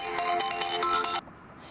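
A phone ringtone for an incoming call from the boss plays as a bright, repeating electronic melody for about a second, then cuts off abruptly into near silence.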